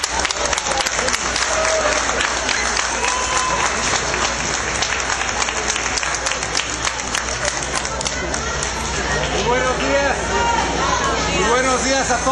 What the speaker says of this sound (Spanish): Les pido un aplauso, por favor, para César Torrecillo.